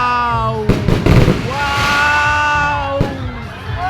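Fireworks exploding at a Christmas light opening in Pantukan, Davao de Oro, a few sharp bangs and crackles over whistling trails, with an excited crowd and voices close by.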